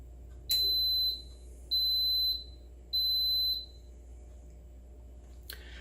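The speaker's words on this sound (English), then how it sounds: "It's going to start beeping, and then it will start." A pressure cooker set to its egg program gives three long, identical high-pitched beeps at an even pace, clear and close against a quiet kitchen hum.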